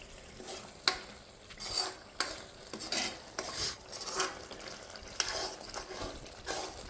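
Pomfret fish curry with tamarind stirred in a pot, a spoon scraping and clinking at an uneven pace over a faint bubbling simmer, close and fairly quiet.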